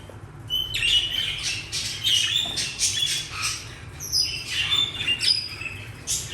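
Pet budgerigars in an aviary chirp and squawk while eating, a steady busy chatter of overlapping high tweets close by, with no one talking.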